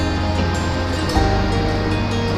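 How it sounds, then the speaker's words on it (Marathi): Large ocean waves break along the Konkan shore at Tivari Bandar during the rainy season, forming a steady, loud, close roar of surf with no voices. "लाटा अतंग मोठ्या लाटा येतात आहे आणि आपल्या किनाऱ्यावर आपटतात आहे"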